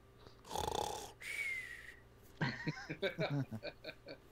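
A person imitates snoring with the voice, a few drawn-out breathy snore sounds followed by a quick series of short chuckling bursts, close and fairly quiet.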